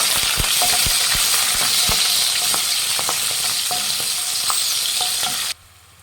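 Peas and chopped green chilies fry in oil in a pan, a steady close sizzle broken by scattered clicks and scrapes of stirring, then the sound cuts off abruptly near the end.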